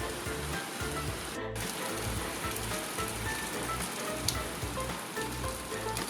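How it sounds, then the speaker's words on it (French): Steady, dense rain pours down on surfaces outdoors, a constant hiss with faint patters throughout, with no one speaking. "Quand je vous dis qu'il y a un rayon de soleil, genre 2 minutes, et qu'ensuite il pleut, c'est vrai."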